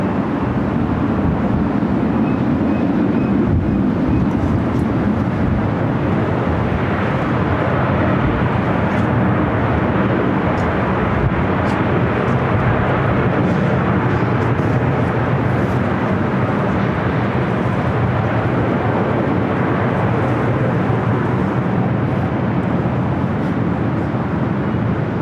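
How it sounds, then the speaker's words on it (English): A Qantas Airbus A380 taking off from LAX gives a loud, steady, broadband jet roar that holds throughout without a break. "So we will have an A380 takeoff here coming up."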